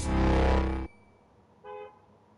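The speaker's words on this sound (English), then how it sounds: "a car just honked as soon as the cutscene ended" A car horn honks in a video game, one long loud blast followed after a pause by a second shorter, fainter toot.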